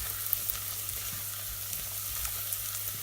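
Garlic and softened onions frying in a pan as the base for a Crown Prince squash soup: a continuous, even sizzle with faint, scattered ticks and no talking.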